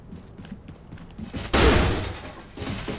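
A shotgun in Wolfenstein II fires a single loud, sharp blast midway, followed by a decaying rumble, with softer mechanical clicks and thuds around it.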